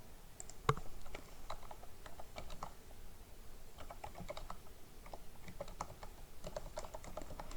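Someone types data on a computer keyboard. The rapid, irregular clicks run throughout at close range against a faint room hum, with no talking.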